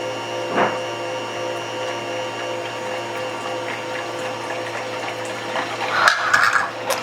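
Water is dumped from the drip pan of a GreenPan Frost ice cream and frozen drink maker, a short splash and gush near the end over a steady mechanical hum in a kitchen.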